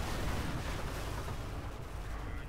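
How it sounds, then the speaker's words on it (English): Mortar fire in the strategy game Company of Heroes: a dense, continuous rumble of booming blasts and crackling gunfire, loud and steady throughout without pauses. "Fucking mortars."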